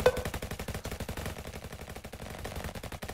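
Rapid automatic gunfire from a shooter in Roblox RF Legacy, a fast steady stream of close, loud shots running the whole time without a break.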